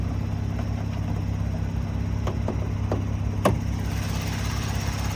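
A 2023 Kia Stinger GT2 with a 3.3-liter twin-turbo V6 idles steadily under the hood, a constant low engine hum with a few faint clicks and taps nearby.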